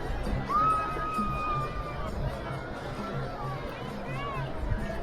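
A dense crowd mills around a goddess palanquin procession at a temple fair, with continuous hubbub, chatter and scattered shouts close by, steady throughout.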